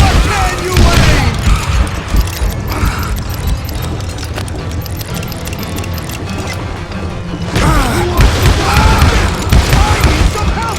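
Dynamite blasts and rapid gunfire fill a Wild West shootout in the video game Call of Juarez Gunslinger. Loud booms and volleys of shots crack in dense, chaotic bursts, with a lull in the middle, while voices shout over the noise.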